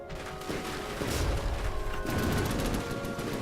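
Cram cannon and heavy bolters firing in From the Depths, a dense continuous barrage of heavy booms and rattling gunfire with rumbling impacts, loud and sustained throughout.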